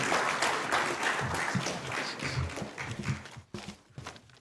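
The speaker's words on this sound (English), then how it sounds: "Can we please welcome him with a humongous round of applause, please?" An audience at a tech conference claps to welcome a keynote speaker: a burst of dense applause that thins out into scattered claps and fades toward the end.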